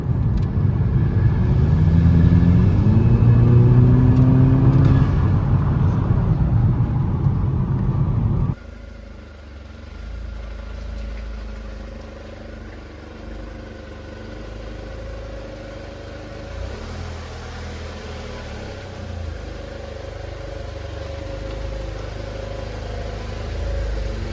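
2007 Volkswagen GTI Fahrenheit edition driving at night, its engine a steady low drone that is heavy and rising at first, then drops to a quieter, even cruising hum heard from inside the car with no talking.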